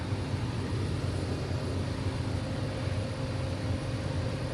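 A Bosch Formula Electro Duo vacuum power nozzle running on high power, giving a steady, dense whirring roar with a low hum that holds constant and close throughout, with no talk.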